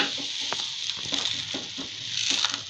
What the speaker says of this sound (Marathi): आपण ही पोळी आता तव्यावर टाकून घेऊया.